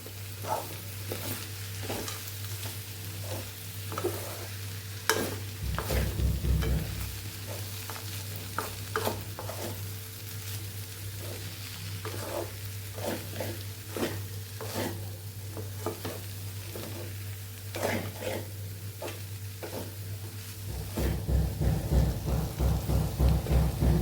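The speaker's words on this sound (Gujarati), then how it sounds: "બધું સરસ આપણે મિક્સ કરી લઈશું" Dry potato bhaji with coriander and lemon juice being stirred and mixed in a pan: repeated soft scraping strokes of a spoon over a low, steady cooking hiss, fairly quiet, with no voices.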